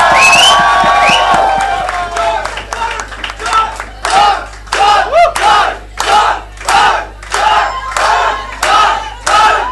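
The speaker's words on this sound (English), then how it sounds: "So a big, big round of applause to them." Live crowd at a Mumbai stage event for Dishoom stars John and Varun, cheering and whooping with scattered clapping, loud and close, rising into repeated rhythmic bursts of shouting that swell and fade in waves.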